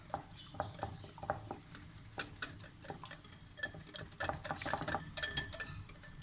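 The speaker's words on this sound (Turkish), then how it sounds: "Bu malzemelerimi şöylece bir karıştıracağım." Dry ingredients for baklava dough are stirred in a bowl, giving a quick run of light ticking, scraping clicks of a utensil against the bowl, close and fairly quiet.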